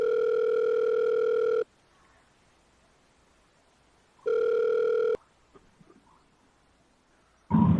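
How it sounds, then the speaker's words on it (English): A steady telephone dial tone sounds loud and clear for about a second and a half while a call is placed back to a radio show caller, breaks off, then returns briefly, with quiet handling noises between. "Let me call him back."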